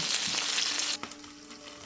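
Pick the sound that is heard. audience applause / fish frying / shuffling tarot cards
fish frying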